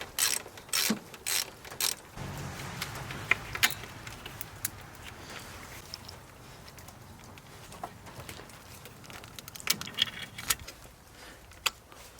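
A ratchet unbolting nuts on a Subaru STI engine during removal, heard as a few bursts of quick clicking ratchet strokes near the start and again later, close and fairly loud, with quieter metallic handling sounds between them.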